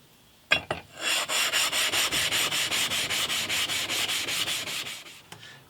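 A hand plane blade is rubbed flat on a sharpening stone in quick, even back-and-forth strokes, about four per second. The scraping is close and steady, with a sharp knock at the start.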